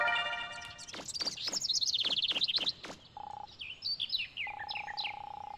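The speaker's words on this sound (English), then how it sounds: "The birds are loud, yes." Loud, close bird chirps from the video game Mega Man Legends, with rapid repeated tweets in quick succession followed by a steady electronic tone and scattered higher calls, with no talking.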